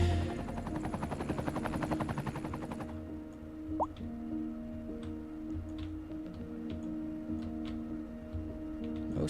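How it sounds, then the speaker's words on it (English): Helicopter in the city-building game Cities: Skylines 2, a steady rotor chop with ticking clicks that fades after a few seconds into a quieter mechanical hum with faint blips. "The helicopter is inside a building."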